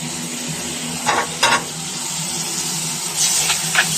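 Onion, tomato, green chili and curry leaves sizzle steadily in a pan for a squid curry, with a few louder scraping stirs of the spoon partway through.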